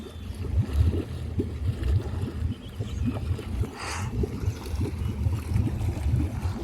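An outboard boat motor starts and runs at a steady idle on the water, a continuous low rumble with rhythmic chugging pulses that stays fairly loud throughout.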